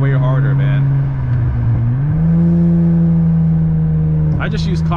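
An Acura TL with high flow cats and a J-pipe revs up, a loud close steady engine drone that climbs in pitch midway and holds, ending with a brief burst of noise.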